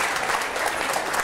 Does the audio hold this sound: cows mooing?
no